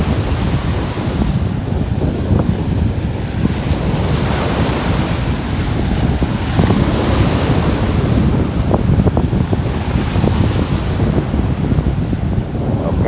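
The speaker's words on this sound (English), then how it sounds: "them waves are crazy, ain't it?" Ocean surf at Miami North Beach, waves breaking and washing in a steady continuous roar with gusty wind buffeting the microphone throughout, no voices.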